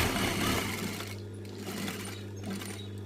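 A sewing machine stitches a fabric table runner with a half-centimetre presser foot. The rapid mechanical whirring runs close and loud, then eases into lighter, intermittent bursts.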